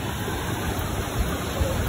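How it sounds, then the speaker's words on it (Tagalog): Strong river current rushing steadily, a dense broadband roar of moving water that stays loud and continuous throughout with no pauses. "Malakas pa rin ng agos."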